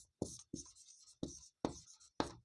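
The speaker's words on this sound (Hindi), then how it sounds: "अब यहाँ लिखेंगे" Marker or chalk writing out a geometry solution on a board in a maths lesson: five short scratchy strokes in an uneven rhythm, close and fairly faint, with brief silences between them.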